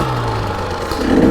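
A 2023 KTM 300 XC two-stroke dirt bike engine revs briefly outdoors, a steady mid-pitched tone that rises into a rougher throttle burst at the end.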